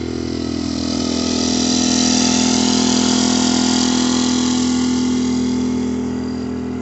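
Portable generator powering a portable air conditioner in a van, a loud, steady engine drone with a strong low hum that swells slightly and fades, heard up close without talk.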